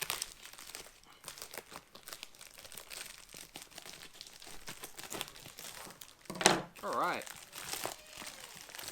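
Plastic wrapping crinkles and rustles steadily up close as a card game package is opened, with a brief sharper tearing burst near the end; a voice speaks once.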